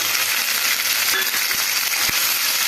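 Green chili, ginger and tomato paste fry loudly in a hot pan, a steady close sizzle with no talking and a couple of faint knocks near the end.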